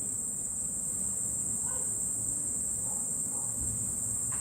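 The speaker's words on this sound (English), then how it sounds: "Can you hear the cicadas?" Steady, loud insect drone of cicadas chirping outdoors, a continuous high-pitched buzz running throughout with faint low background noise beneath and no talking.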